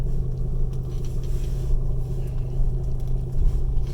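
Jeep Liberty Cherokee CRD diesel turning around, a steady close low engine rumble running throughout with slight swells, no talking over it.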